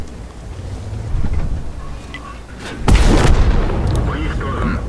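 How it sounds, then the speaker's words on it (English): A tank cannon firing at a T95 tank destroyer in World of Tanks, a single heavy, booming shot landing midway through, with engine rumble and battle noise underneath and someone talking. "we're going to retrack the T95 and finish him off with a couple more shots through the side"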